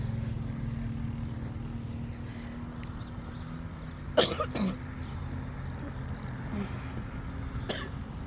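Two short, sharp coughs ring out close by, one after another, with a third fainter cough a few seconds later over a steady low outdoor hum.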